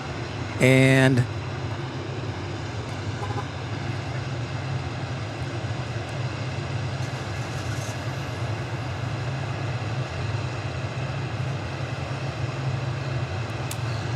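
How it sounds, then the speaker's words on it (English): A Boeing 747 taxis out at DFW airport, bound for Louisville, producing a steady, distant jet engine rumble and whine that runs throughout. A brief voice is heard near the start. "There goes our 747 taxiing out."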